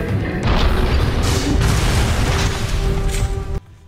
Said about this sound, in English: Next up is the rocket launcher.